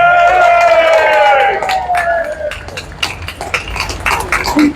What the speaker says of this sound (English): A huge big round of applause, please.